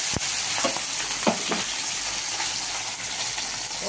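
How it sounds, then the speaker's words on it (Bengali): Fish frying in hot oil in a wok makes a loud, continuous sizzle and hiss that holds steady throughout, with a few brief crackles and pops. "এবার মাছটা ভাজতে শুরু করব"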